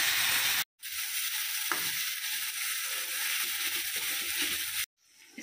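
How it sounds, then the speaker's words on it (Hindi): Green chili frying in a hot pan while being stirred: a loud, steady broadband sizzle with faint scraping, cut off by a brief silence near the start and again near the end. "एक हरी मिर्ची अच्छी तरह से इसे चलाते हुए भून लेंगे"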